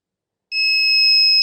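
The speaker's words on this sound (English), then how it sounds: "the buzzer starts ringing alarm" A piercing, steady electronic buzzer alarm from an Arduino gas-sensor safety circuit triggered by incense smoke, starting abruptly and holding one loud continuous two-tone whine.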